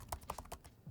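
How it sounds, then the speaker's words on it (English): Quick keystrokes clatter across the keyboard of a Razer Blade Stealth 13 laptop, several close, light taps coming in an uneven rhythm. "Testing the keyboard."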